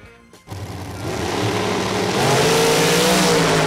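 A Top Dragster powered by a 655 cubic inch nitrous bottle-fed Hemi launches at the drag strip, its engine note jumping to a loud, sustained roar that climbs steadily in pitch as it accelerates away.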